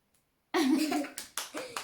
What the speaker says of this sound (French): J'ai dit on applaudit.